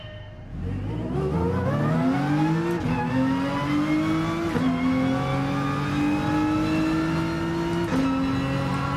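A race car in the GT Sport video game accelerates hard after braking, its engine note climbing steadily and loudly as it revs through gears, with brief shift dips, sustained and close throughout.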